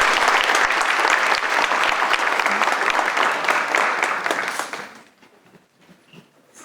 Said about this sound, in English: please applaud as he comes forward